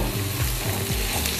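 Chopped onion and green chilies lightly frying in a pan as filling for mini moghlai paratha, a dense close sizzle with soft stirring scrapes, no talking.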